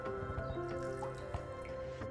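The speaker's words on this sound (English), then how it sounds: "squeeze out any excess water" Water drips and trickles from a damp mutton cloth being squeezed out by hand over a sink, with a few close, soft splashes in a steady low patter.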